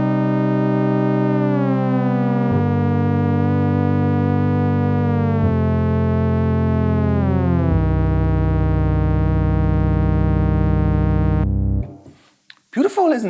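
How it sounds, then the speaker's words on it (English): An ASM Hydrasynth synthesizer plays a theremin-style patch, a loud pure tone that glides and steps between pitches with wavering vibrato for about twelve seconds, then breaks into brief noisy sound at the end. "I will use this theremin sound"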